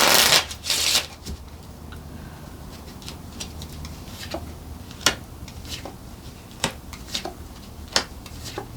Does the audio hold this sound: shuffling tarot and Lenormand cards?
yes